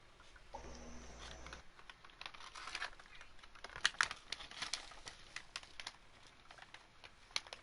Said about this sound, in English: If you can hear my typing, I'm typing to no one in particular.